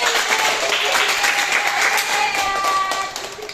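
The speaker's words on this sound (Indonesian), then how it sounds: "Ya udah, oke, beri tepuk tangan dulu." A small group claps together during a psychiatric nursing group therapy session, producing brisk, uneven applause that stays fairly steady, then thins slightly toward the end.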